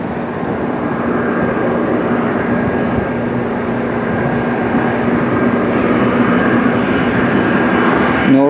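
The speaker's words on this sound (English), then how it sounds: "next up we got a Gulfstream G200 Galaxy and a photo bomber here." A Gulfstream G200 Galaxy business jet flies over Toronto airport, its engines giving a loud, steady, broadband roar that holds evenly for several seconds before easing slightly at the end.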